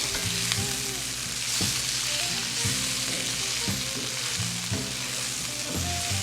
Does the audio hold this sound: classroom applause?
no